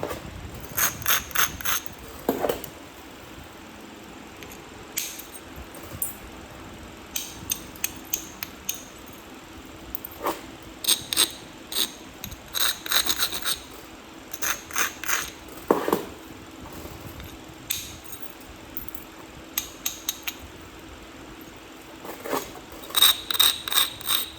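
Coral biface being thinned by flintknapping, a series of sharp clicks and scraping taps in irregular bursts, close and fairly quiet, with pauses between strokes.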